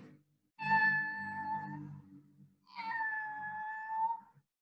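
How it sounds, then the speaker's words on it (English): A cat gives two drawn-out meows, loud and close, separated by a short pause, with nothing else in the background. "It's a cat."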